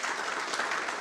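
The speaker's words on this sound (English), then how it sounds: "So give the town council a big round of applause," Audience applause for a town council at a community planning meeting, a dense, steady wash of clapping from a crowd indoors.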